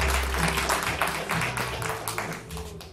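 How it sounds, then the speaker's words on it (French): Applause from an audience at a local CEGEP talent show final in Baie-Comeau, a steady wash of clapping lasting throughout at moderate level, with faint background murmur. "On peut les applaudir!"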